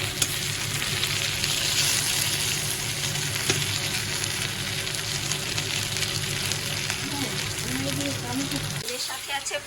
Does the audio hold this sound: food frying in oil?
yes